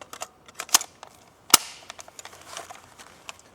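An AGM MP40 airsoft gun firing from a mid-cap magazine: sharp, close clicking pops arriving in irregular single shots and short bursts over a quiet background, with one louder crack near the middle.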